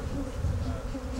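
Honeybees being shaken from a hive frame on a warm day make a dense, continuous close buzz with no voices.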